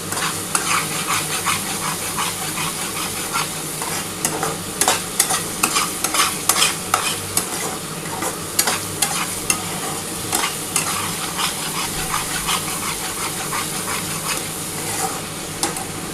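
Masala spice paste frying in hot oil for a Bengali katla fish tel jhal, sizzling steadily while a spoon scrapes and stirs the pan in irregular clattering strokes, close and continuous with no talking.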